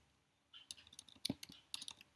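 Typing on a computer keyboard: a quick, irregular run of light clicks begins about half a second in and continues to the end. It is faint and close, with no voices.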